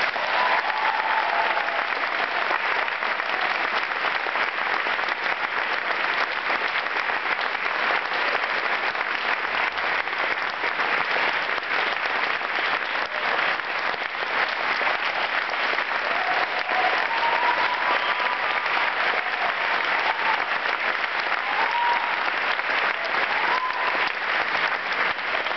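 An audience applauds to welcome distinguished alumnus Bryan Scott at a high school senior class gathering. The clapping is loud, dense and sustained, holding steady for the whole stretch with no voices on top.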